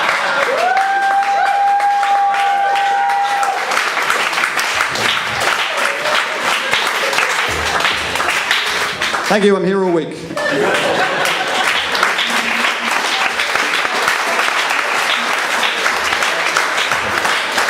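A crowd at a literary reading event applauds a guitar-playing performer, loud sustained clapping throughout while someone speaks over it and some people chuckle.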